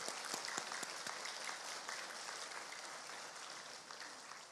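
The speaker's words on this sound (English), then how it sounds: "Let's applaud that class as well." An audience at an elementary school awards ceremony applauds a class, a continuous patter of many hands clapping, fairly distant and soft, holding steady for several seconds before tapering slightly.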